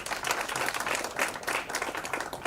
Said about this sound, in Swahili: naomba tumpigie makofi sana